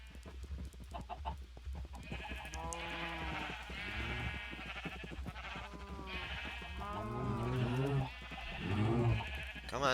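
Sheep in a video game bleating repeatedly in wavering, overlapping cries, loud and close, with other farm-animal calls mixed in and no talk.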